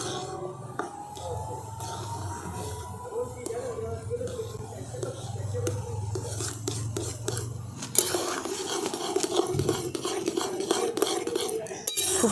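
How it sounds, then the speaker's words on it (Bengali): A spoon stirs semolina with pumpkin in a metal pan, scraping and clinking steadily at close range, with soft scraping strokes and occasional sharper taps against the pan's sides and bottom. "খুব বেশিক্ষণ নাড়তে হবে না, দেখবেন একটুখানি নাড়লেই দেখবেন এটা একদম শুকনো শুকনো হয়ে যাবে"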